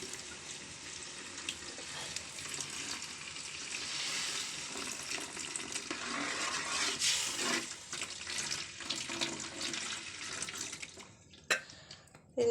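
Jaggery syrup poured into a hot pan of pineapple for payasam, a sustained hissing sizzle and liquid rush that swells then fades, ending in a couple of sharp knocks.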